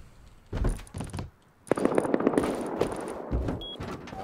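Gunfire rings out during a trio match in the video game Rust, with bursts of rapid automatic shots and a few single cracks, loud and close, separated by short quiet gaps and with no talking over them.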